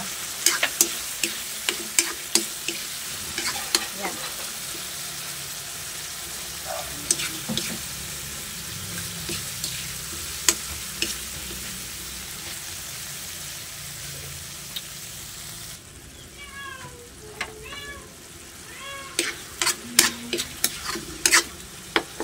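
Mango goes into a pan of frying tomatoes, sizzling continuously while a spoon stirs and scrapes with frequent sharp clicks and knocks, close and steady; partway through the sizzle softens and wetter bubbling takes over.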